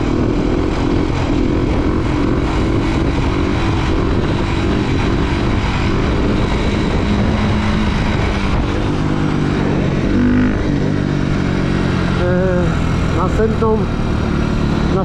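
Motorcycle engine droning steadily and loud while the rider shifts from third to fourth gear during wheelie practice, with a voice talking over the continuous engine noise.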